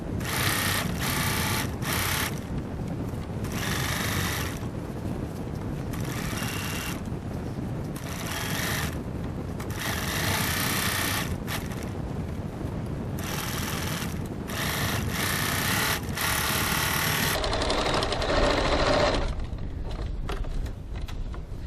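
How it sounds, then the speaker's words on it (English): A sewing machine stitches a seam through foam on a boot-shaped gift bag, running in steady bursts of rapid mechanical chatter with short pauses between runs, close and loud throughout. "So I'm just stitching my seam again, and where I've got a bit of foam sticking out there, I'm going to try and stitch next to my seam"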